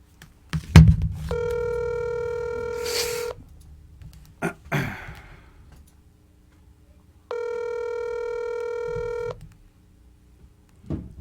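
Two bursts of steady electronic telephone tones, each lasting about two seconds, with clicks and handling noise between them and no talking.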